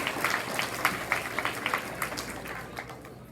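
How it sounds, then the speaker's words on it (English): An audience at a school Veterans Day assembly gives a round of applause for veterans. The quick, scattered hand claps are fairly faint and taper off toward the end. "Let's give them a big round of applause"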